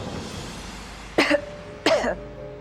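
Two separate coughs, spaced under a second apart, come from a woman over a quiet background hum.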